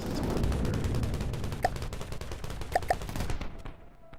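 Rapid bursts of naval weapons firing offshore in a video game, a dense, distant rattling fusillade with a few sharper cracks standing out before the volley trails off.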